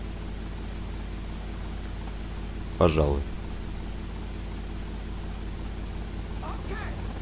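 Helicopter in the game GTA Vice City, a steady droning rotor and engine hum running throughout, with someone briefly speaking over it.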